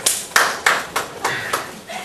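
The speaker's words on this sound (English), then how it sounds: "Clap, y'all." A few audience members clap sparsely in a hall, about seven distinct claps spaced evenly over two seconds, fairly close, with some voices in the room.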